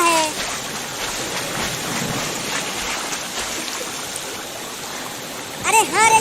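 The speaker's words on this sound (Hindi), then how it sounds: "अरे रुको चिंटू, और वहाँ देखो, उस टोकरी में एक छोटा बच्चा पानी में बह रहा है।" In a cartoon, a stream of flowing water carries a basket along, the rushing splash running steadily throughout, with cartoon voices and musical accents over it near the end.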